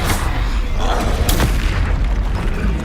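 Confringo spell blasts in the video game Hogwarts Legacy boom heavily in a loud, continuous rumble, with a few sharper cracks rising briefly out of the dense low roar.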